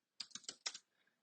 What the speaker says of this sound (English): We want to type in this command ipconfig